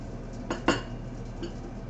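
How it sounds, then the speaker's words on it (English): Dishes and cutlery being tidied away after a coffee chat, with two brief clinks close together near the start and a fainter knock later, over a quiet room background with no talking. "Sorry to make dishes noise."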